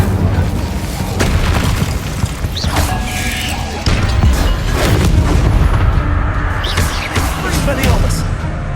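An Incendio fire spell blast in Hogwarts Legacy: heavy booming bursts and roaring whooshes break out in a loud, chaotic fight, with a voice heard among the impacts.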